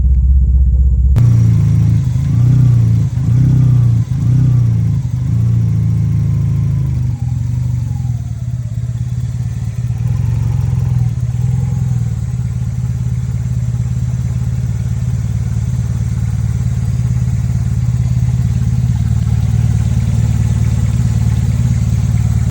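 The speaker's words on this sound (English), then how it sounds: "I've got my throttle all the way open, foot's to the floor. It won't rev up, not in the slightest." A Mazda Miata engine running badly rumbles loud and close, with the throttle held wide open. It keeps a steady, rough drone for over twenty seconds and never rises in pitch.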